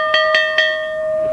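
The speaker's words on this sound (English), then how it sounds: "This is an old school bell." An old handheld school bell rings out with three quick clangs followed by a long, pure ringing tone that slowly fades, close and loud with no talking.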